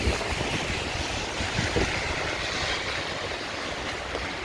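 Strong wind blows on a city street in Chicago, with steady, loud microphone buffeting and rumble that fills the whole stretch and no voices.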